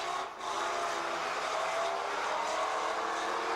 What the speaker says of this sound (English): Still that big jag sounds tremendous